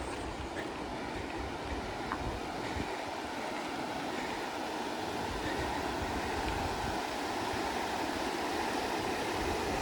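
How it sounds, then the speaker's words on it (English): Rushing river water near Toledo, Spain, close to old bridge foundations, roars as a loud, steady, unbroken wash of flowing water heard nearby. "so nice to hear the sound of the rushing water."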